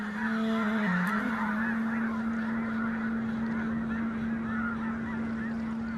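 A huge flock of red-breasted geese taking off together in the Danube Delta, a dense continuous chorus of honking calls over a steady tone, no talking.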